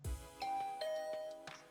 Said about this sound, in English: after pressing the doorbell, I heard footsteps coming from inside